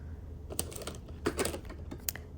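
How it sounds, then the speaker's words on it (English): A creamy-sounding keyboard clicks steadily under fingers typing, with quick irregular keystrokes close by and quiet, with no talking. "This keyboard produces that creamy clicking sound"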